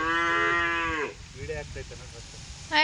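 A cow gives a long, loud moo, followed by quieter voices talking, then another moo begins at the end.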